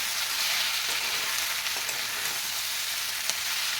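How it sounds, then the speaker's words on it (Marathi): Cut cabbage rolls sautéing in a pan over high flame, a constant bright sizzle with faint occasional stirring taps, no talking. "आता हे रोल छान असे परतून घ्यायचे आहेत"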